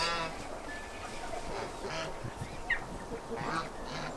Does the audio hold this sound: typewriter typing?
no